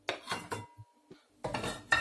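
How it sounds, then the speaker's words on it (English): Roughly chopped raw potatoes tipped into a cooking pot, a quick run of hard clattering knocks against metal in two short bursts, close and clear with no talking. "And they can go into my pot."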